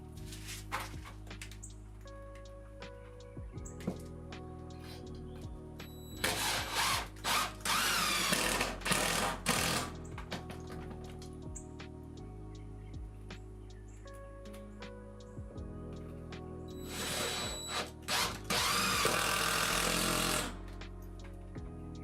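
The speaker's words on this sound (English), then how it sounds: "simply mounting a 2x4 level across two studs with 4 3-inch screws" Power drill driving 3-inch screws to mount a 2x4 level across two wall studs, two bursts of a few seconds each with rising whine and grinding, heard over background music.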